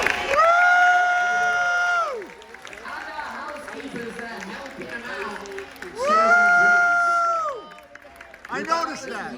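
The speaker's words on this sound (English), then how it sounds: "please give a massive round of applause for my bartenders" Audience on a cruise ship applauds and cheers for the bartenders, with loud pitched whoops at the start and again near the end and a stretch of crowd noise and clapping in between.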